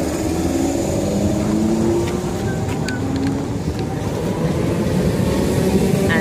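A Class 313 electric multiple unit departs Bowes Park on the Hertford Loop, a steady loud rumble of traction and wheels rolling continuously throughout, with faint squeals above.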